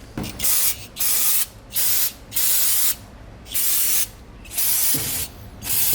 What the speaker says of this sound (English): Another thing that makes or breaks brake clean, makes or breaks brake clean, is the pressure in which it comes out.